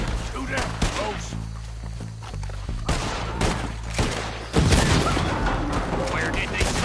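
Gunfire from the Red Dead video game crackles in rapid volleys, dense overlapping shots and booms with a swelling burst near the end, mixed with game music and shouted character voices.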